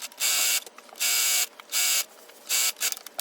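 Sewing machine running a straight stitch at the longest stitch length on a drawstring bag: four loud, even bursts of rapid mechanical whirring separated by brief pauses, close up with no talking.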